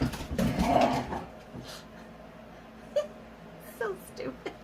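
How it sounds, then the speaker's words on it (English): A dog whimpers and whines in short, high, wavering bursts, with a louder noisy stretch at the start and scattered faint cries after, close by indoors. "That was a stupid dog"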